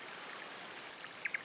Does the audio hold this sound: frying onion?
no